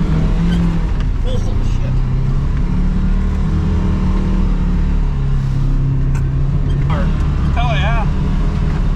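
Ski-Doo 600RS snowmobile running a lap of a snocross track, its engine droning steadily and loudly up close throughout while a rider calls out excitedly a few times.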